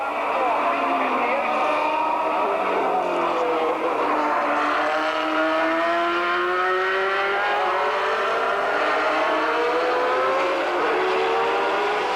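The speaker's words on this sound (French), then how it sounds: "Montermini toujours en tête avec sa Reinhard Mugen, plusieurs longueurs d'avance car devant il n'y a pas de projection d'eau" Formula 3000 race cars, including a Reynard Mugen, race on a wet circuit, with engines wailing and sweeping in pitch as they pass. A commentator talks over the continuous roar.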